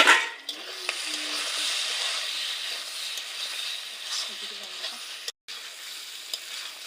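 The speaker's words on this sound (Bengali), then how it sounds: "লঙ্কার গুঁড়ো ভালো করে কষিয়ে নিচ্ছে" Meat and soybean chunks fry with chili powder in a pan, giving a steady, close sizzle and hiss with occasional stirring clatter. The sizzle cuts out briefly near the end.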